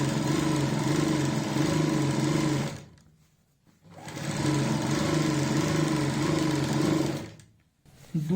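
A sewing machine running steady stitching bursts on a salwar, two long runs of several seconds each with a brief stop between them, close and continuous with no talking.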